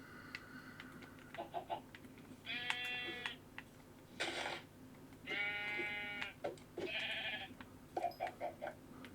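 Minecraft sheep bleat several times in short, nasal, wavering cries spread across the stretch, with soft keyboard tapping and clicks in between.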